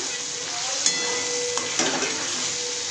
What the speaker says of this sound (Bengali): এখন এই যে পেঁয়াজ ভাজছি